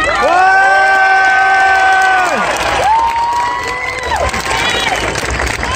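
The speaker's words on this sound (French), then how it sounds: "S'il vous plaît, applaudissez très fort, mais vraiment très fort," A large crowd at the closing ceremony of the Armageddon attraction at Walt Disney Studios cheers loudly with whoops, shouts and applause, sustained and near, while sirens or horn-like tones swell and fall over it.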